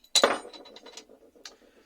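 A bottle of Bulmer's Norman cider, an unfiltered bottle-conditioned drink, is opened with a sharp glassy clink followed by a soft, brief fizzing hiss and a faint later tick, close and alone.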